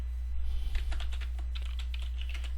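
Rapid typing on a computer keyboard, a close run of light key clicks and taps over a steady low electrical hum.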